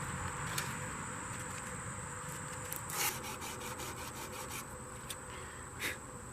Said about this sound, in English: I got the sandpaper. Let's do it.